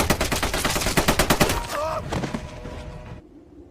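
Rapid gunfire from a film scene, a quick run of loud, evenly spaced shots lasting about a second and a half, then a shorter scattered burst that trails off into quiet.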